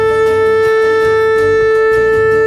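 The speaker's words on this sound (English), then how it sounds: "This leads to the final blast of the shofar, the Tekiah Gedolah." Shofar ram's horn sounding the Tekiah Gedolah, the long final blast of the Rosh Hashanah service: a loud, steady, brassy tone with strong overtones held unbroken through the whole stretch.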